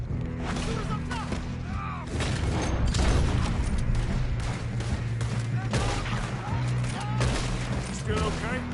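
Gunfire in Red Dead Redemption 2, a dense fusillade of loud, rapid shots and thumps throughout, with shouted voices mixed in over the shooting.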